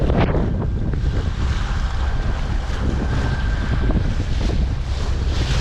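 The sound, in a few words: strong wind at sea on a sailing boat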